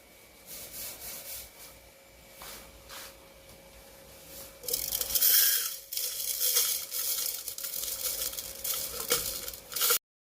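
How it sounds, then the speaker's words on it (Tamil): Roasted whole spices being ground to powder in a grinder for a spicy raw mango gravy, a quiet start that jumps midway into a loud continuous whirring grind with brief pauses, alone without talk. "இப்போ இதை வறுத்து வச்சுருக்கோம் பார்த்தீங்களா இதை அரைச்சிக்கணும்"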